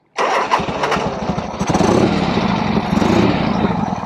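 A Harley-Davidson Ironhead Sportster motorcycle engine cranks and fires up abruptly, then revs and settles into a loud, throbbing, uneven rumble up close.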